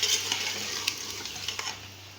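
Chicken sizzles in hot oil in a pan while cooking for a white chicken karahi, a close steady hiss and crackle with a few light clinks from stirring, no voices.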